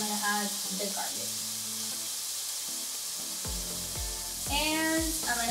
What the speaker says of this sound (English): we're gonna start by sauteing the onions